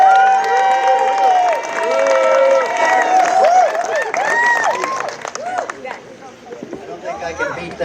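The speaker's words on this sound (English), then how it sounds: "let's have a big round of applause for Jerry." Wedding guests applaud and cheer loudly at a reception, with whoops and raised voices over clapping that fades toward the end as the room quiets.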